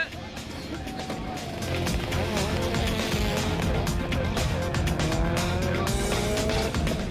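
A Subaru WRX races hard on a track, engine revving loudly as its tires squeal in long rising and falling screeches, with a voice speaking over the run.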